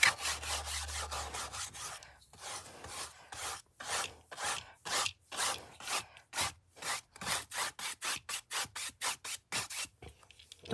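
A dry brush scrubs darker blue paint onto a canvas for a landscape painting. It makes rapid, close, raspy strokes in a steady back-and-forth rhythm that speed up toward the end.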